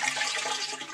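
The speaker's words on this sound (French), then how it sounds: "je vide la chasse d'eau." A toilet cistern is flushed and emptied during a float valve repair, a close, loud rushing gush of water pouring steadily through the whole short moment.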